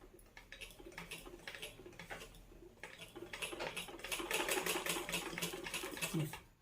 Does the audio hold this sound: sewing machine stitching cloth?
yes